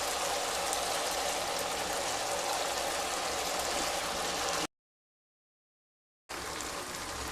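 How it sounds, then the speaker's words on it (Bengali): Marinated chicken goes into a pan of fried spice paste, bringing on a loud, steady broadband sizzle that cuts to dead silence partway through and then resumes. "এবার ম্যারিনেট করা চিকেনটা দিয়ে দেব।"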